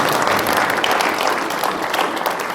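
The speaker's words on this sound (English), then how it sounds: "Go ahead and give him a round of applause." A crowd applauds steadily and loudly, a dense wash of clapping that holds for a few seconds without a pause.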